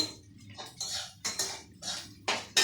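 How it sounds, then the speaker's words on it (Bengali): Onions stirred in a pan while frying: a run of sharp metallic spoon scrapes against the pan, about six bursts in an uneven rhythm, close and loud over a faint background sizzle. "দেখো আমার পেঁয়াজটা ভাজা হয়ে যাচ্ছে"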